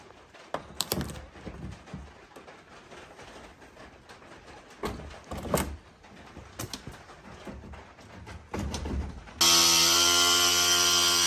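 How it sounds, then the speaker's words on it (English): Birds coo quietly in the background before a power tool bursts in loud and steady near the end, starting to cut up a fifth-generation Toyota 4Runner Limited front bumper. "Start cutting the bumper up."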